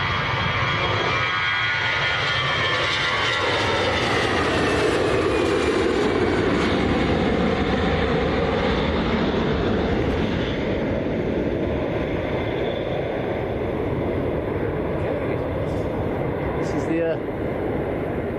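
EasyJet airliner bound for Alicante at Manchester Airport, a steady broadband jet roar holding loud and constant throughout, with faint voices underneath.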